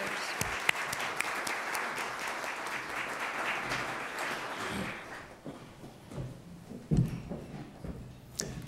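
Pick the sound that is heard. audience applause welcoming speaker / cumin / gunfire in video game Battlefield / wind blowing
audience applause welcoming speaker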